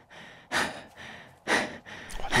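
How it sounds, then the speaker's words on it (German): A player character in the survival game 7 Days to Die, low on stamina, pants heavily in two loud, breathy gasps with softer exhalations between, close and rhythmic, and a faint sound near the end. "Oh, du hechelst aber auch ganz schön."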